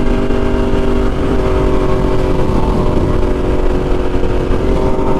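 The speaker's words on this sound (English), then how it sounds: "we got a Lamborghini up here" Continuous loud engine roar of a Lamborghini driving nearby, heard from the road alongside a motorcycle rider, with steady broadband rumble and no clear pass-by swell.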